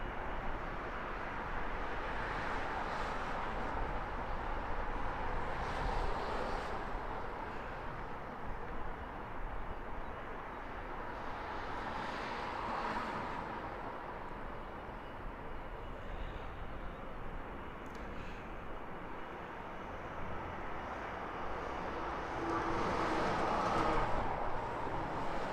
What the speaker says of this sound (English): Ready for departure. British Airways flight 634. This one's an A320neo.